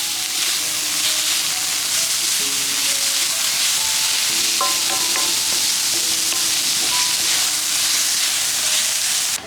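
Finely chopped cabbage with turmeric powder fries in a pan for a stuffed chapati filling, a steady close sizzle and hiss running throughout while a spoon stirs and scrapes against the pan in irregular bursts; no voices.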